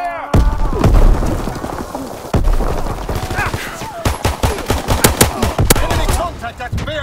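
Dense automatic gunfire and heavy booms from a World War II multiplayer shooter, Call of Duty: WWII, firing in rapid close bursts with sharp repeated cracks throughout, loud and continuous.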